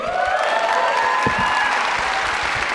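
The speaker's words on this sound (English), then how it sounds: "it shouldn't even receive claps, really" Audience applause breaks out at a university speech event in Canada, a dense wash of clapping filling the whole moment beneath a louder voice, with a few murmured sounds from the crowd.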